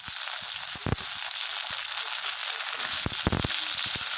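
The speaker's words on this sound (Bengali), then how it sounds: "বটবটিগুলো ভাজা হতে হতে আলুগুলো আরও কিন্তু লালচে রং ধরে নেবে" Potatoes and green beans frying in a pan with a little oil, a constant hissing sizzle broken by sharp crackles and pops, close and alone.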